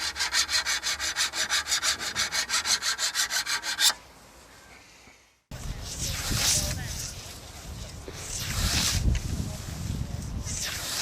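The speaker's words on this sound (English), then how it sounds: "and then the edge honed with a stone." An English scythe blade has its edge honed with a stone: rapid, rhythmic rasping strokes close by, then a pause and a rougher, continuous scraping with a brief gap between.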